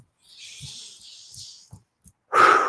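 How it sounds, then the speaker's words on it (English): Long, audible exhalation as part of a guided deep-breathing cue in an interval training session: a soft airy outbreath, a few small breathy puffs, then a louder close rush of breath at the end. "and breathing out."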